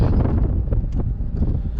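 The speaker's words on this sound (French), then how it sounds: "Tu peux fermer ta fenêtre, hein." Wind buffets through an open car window while driving, a loud, steady low rumble of gusting air hitting the microphone that fills the whole moment.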